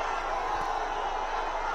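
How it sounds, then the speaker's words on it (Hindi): A large crowd gathered outside Mumbai airport to welcome Team India makes a steady, dense roar of cheering and shouting. It is distant and continuous, with no single voice standing out. "एयरपोर्ट के बाहर से आ रहा ये शोर, अंदाजा लगाइए कितनी बड़ी पैमाने पर भीड़ वहां पर उपस्थित है"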